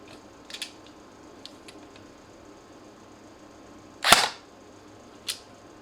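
Dry firing of an Acturus M4 AR02CQ airsoft AEG rifle with no ammo loaded: a few faint clicks, then one sharp, louder mechanical snap near the end and a last brief click, over a quiet room.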